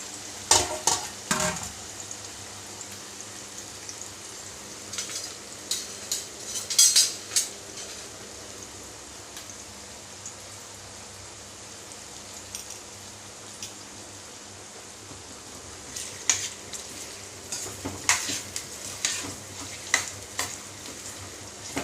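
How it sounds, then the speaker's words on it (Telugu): Thinly sliced onions frying in hot oil for chicken biryani, a soft steady sizzle with intermittent clinks and scrapes of a spoon stirring in the pan, faint and close. "సన్నగా కట్ చేసి వేసుకుంటున్నాను ఇవి బాగా ఎర్రగా వేగాలండి కర్రగా ఫ్రై చేసి పెట్టాలి"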